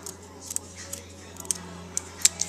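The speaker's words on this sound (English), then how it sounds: "Take that straw and then just cut it in half." Scissors snip through a drinking straw in a few sharp, quick clicks close by, with a low steady hum underneath.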